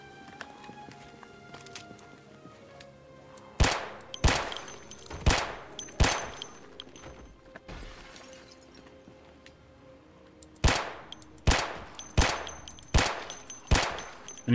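Rifle gunfire in the zombie survival game Project Zomboid, firing 5.56 rounds: two bursts of sharp, evenly spaced shots, about four in the first group and six in the second, loud against quiet in-game ambience.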